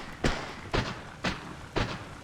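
Heavy boot footsteps in the Hogwarts Legacy video game, four evenly spaced thudding steps about half a second apart, close and solid over a faint background.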